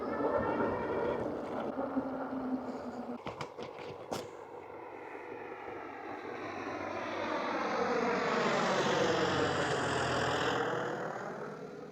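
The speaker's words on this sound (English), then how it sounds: "Piper Cherokee." A Piper Cherokee light aircraft passes overhead during a ride on an electric bike, its propeller drone rising and shifting in pitch as it approaches, loud and steady for several seconds after a few brief knocks close by.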